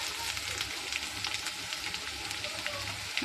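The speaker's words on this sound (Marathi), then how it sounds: "खाली वरतून घेते कांदा आणि चांगला परतून घेते." Chopped onion and curry leaves sizzle and crackle steadily in a hot pan for a home-style Marathi dish, a faint, constant frying hiss with no voices.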